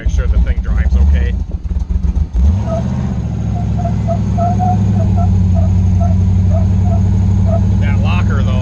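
A supercharged Jeep with a Chevy engine rumbles loud and close on a backcountry road, a steady low drone that holds throughout after a rougher, uneven start.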